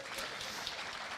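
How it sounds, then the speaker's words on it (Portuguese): Church audience applauding a volunteer during a sermon, a soft, steady patter of many hands that fills the whole short stretch at low volume. "salve de palmas para o Denis."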